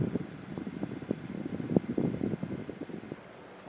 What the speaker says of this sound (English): The fan runs top speed about 480 Fahrenheit, so that's close to top speed now.